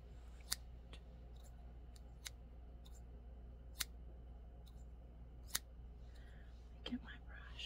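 Several sharp, isolated snips of scissors trimming a beard, spaced a second or two apart over a low steady hum, with faint rustling near the end.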